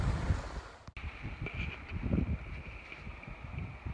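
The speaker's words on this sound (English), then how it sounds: "Very windy here today" Gusty wind buffets the microphone outdoors by the Grose River on a kayak camping trip, a steady low rumble with a brief dropout near the start, continuous and close.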